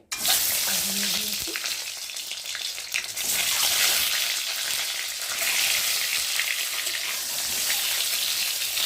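Eggs fry in hot salted oil in a pan, a dense, steady sizzle with faint scraping close by and no talking.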